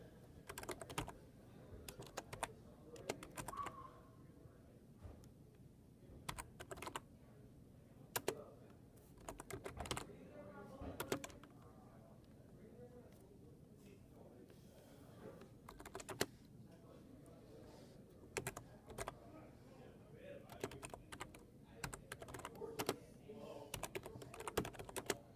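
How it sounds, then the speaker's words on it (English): Typing commands into a computer terminal on a Raspberry Pi, a long run of close, quiet, uneven keyboard clicks and taps with brief pauses between bursts. "you have to go to terminal and type in"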